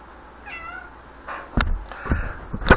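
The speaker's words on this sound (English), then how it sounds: "my cat Franny needs attention. Do you all hear her" A cat meows a few times in short, rising cries, fairly close, followed by some rustling and handling noises near the microphone.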